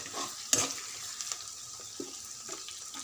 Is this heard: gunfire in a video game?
no